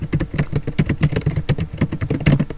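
Quick, even typing on a computer keyboard with dense clacking keystrokes in a fast rhythm, close and clear with no voices.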